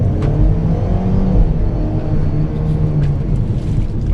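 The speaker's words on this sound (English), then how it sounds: "let me check the acceleration in here." A 2021 Ford Bronco Badlands accelerates across a parking lot, its engine loud and close with a rising, rumbling drone and audible gear changes, heard alone without voices.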